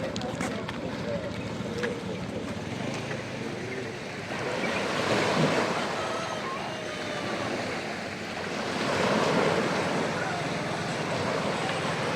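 Sea waves wash steadily onto the beach at Lovina, Bali, a broad continuous surf roar with gusts of wind buffeting the microphone and swelling twice in loudness.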